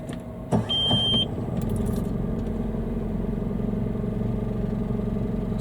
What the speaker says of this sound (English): Okay, so fingers crossed the engine's going to start.